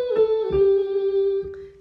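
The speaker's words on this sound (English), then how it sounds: "we're going to hum those five notes like this." A voice hums five sustained pitched notes, steady and close, with small glides between tones.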